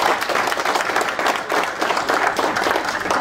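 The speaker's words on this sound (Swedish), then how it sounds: "Men vi ger även Johan en varm applåd." A warm round of applause at a Swedish club's annual meeting for Johan, with many hands clapping close and loud in a dense, continuous patter that swells slightly and holds steady.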